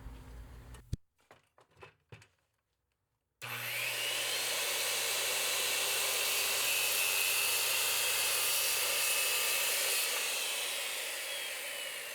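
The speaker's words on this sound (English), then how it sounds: "to shave off that material, I will use the circular saw" A circular saw shaves a notch in wood for a bicycle frame jig: a few brief knocks and handling sounds, a pause, then a loud, steady whining cut that runs for several seconds.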